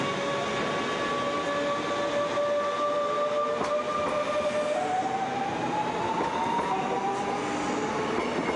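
A Class 424 S-Bahn train rolls through a station in Hannover with a steady rumble, long drawn-out wheel squeals rising and falling, and faint rail clatter.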